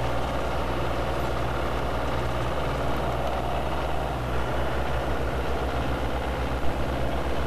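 Light ski-equipped airplane engine taxiing toward a takeoff zone on snow, a steady, loud, droning engine note with constant low rumble holding evenly throughout, no talk.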